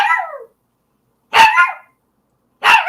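A dog gives three sharp, loud barks spaced about a second apart, with silence between them and no talk.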